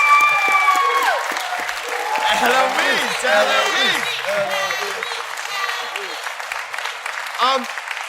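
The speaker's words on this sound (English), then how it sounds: "can we have a round of applause" Audience applause at a televised talent show final, a steady broad wash of clapping and crowd noise throughout, with a presenter's voice and cheering calls over the top.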